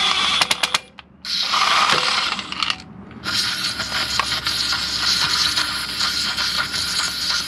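Brake cleaner hisses out of a spray can onto a Ford Focus transmission part, bursts of loud, close spraying separated by short pauses, with faint metallic clicks at the start.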